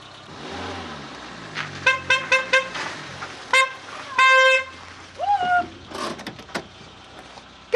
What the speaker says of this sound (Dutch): Je toetert dwars door Hassens screentest heen.